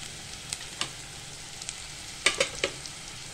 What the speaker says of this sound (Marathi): हा कांदा आपल्याला चांगला लालसर भाजून घ्यायचा आहे।